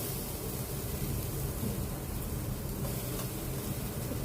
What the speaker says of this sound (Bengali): এখন দিয়ে দিব হচ্ছে আদা আর রসুন আদা আর রসুনের কুচি